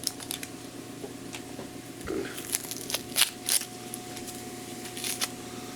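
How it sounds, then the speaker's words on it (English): A knife cuts a white onion in half on a board, giving a few sharp, close crunching snaps and clicks over faint background hum. "I want a little bit of white onion in here too. So sometimes just cut it in half."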